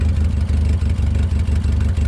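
A 1967 Toyota Corona RT40 engine idles on its own, close and steady, with a low, lumpy, pulsing rhythm from the exhaust.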